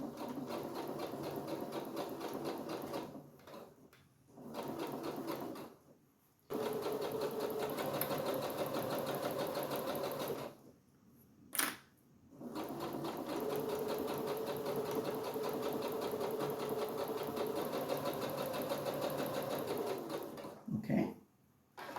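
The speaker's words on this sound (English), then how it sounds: "we're gonna be sewing on top of the" A sewing machine stitches a notebook pencil pouch in several runs of steady, rapid needle chatter, stopping briefly between runs for short quiet gaps.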